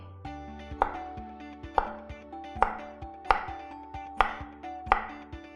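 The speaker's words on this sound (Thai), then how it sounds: "เริ่มจากปอกเปลือกแครอทนะคะ แล้วก็ หั่นเป็นชิ้นๆนะคะ ตามชอบเลย" A knife chops through a peeled carrot on a cutting board in slow, evenly spaced thuds, about seven cuts, close up, with soft background music and no talking.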